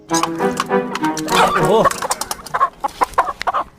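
Chickens cluck in short, close bursts, with a drawn-out squawk midway, mixed with other nearby animal noises.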